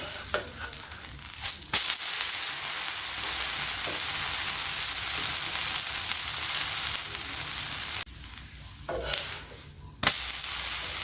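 Kambu adai made from pearl millet batter sizzles steadily in oil on a hot pan, a continuous close crackling hiss that dips briefly near the end.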